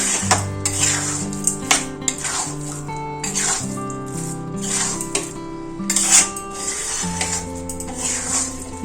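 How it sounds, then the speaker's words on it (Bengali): A spoon stirs moong dal with spices in a pan over low heat, giving steady close metallic scrapes and clinks against the pan with a faint sizzle beneath, and no voices. "সব মশলার সাথে ডালটা খুব ভালো করে মিশুতে হবে"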